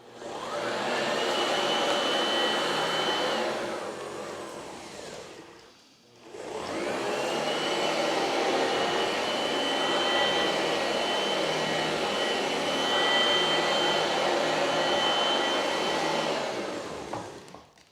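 An Oreck Elevate Conquer UK30300 upright vacuum cleaner runs on a hard floor with a loud, steady motor roar and airflow hiss. The sound drops briefly partway through, then returns at full strength. No one speaks.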